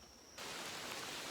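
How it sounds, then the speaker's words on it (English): Rain at Rancho Naturalista suddenly swells into a steady, dense hiss of falling drops that stays loud and even. "Started raining again"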